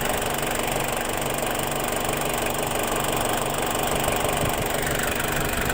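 A 2004 Ford Ranger TDi diesel engine idles after starting during an injector cleaning, a steady loud clattering rumble with continuous knocking, unchanging throughout with no talking.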